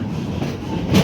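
A theme park ride train rolls steadily along its rails with a continuous low rumble and clatter, close and fairly loud throughout the short stretch.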